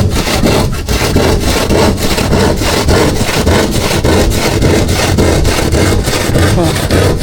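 A hand saw cuts through plywood in quick, rhythmic, rasping strokes, loud and close, continuing steadily without a pause.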